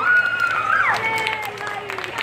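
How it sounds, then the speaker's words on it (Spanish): A crowd at a festival costume contest gives a burst of applause, clapping and cheering beneath a loud whistle-like tone, with people's voices mixed in. "Vamos a darle un aplauso al Transformer"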